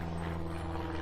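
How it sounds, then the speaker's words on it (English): Steady low droning hum of a plane passing overhead, constant and moderately faint, with a continuous engine tone and no voices. "excuse the plane over here"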